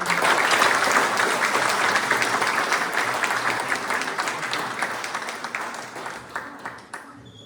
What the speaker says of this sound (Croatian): Molimo vas da ga pozdravite toplim i iskrenim aplauzom.